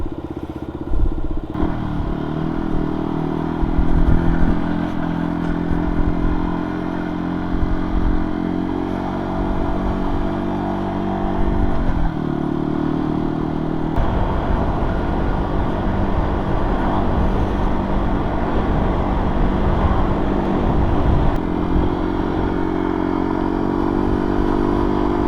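A motorcycle rides steadily through a roundabout, the engine droning loud and close with shifting pitch as it leans and accelerates, plus wind rush and occasional clatter, with no talk.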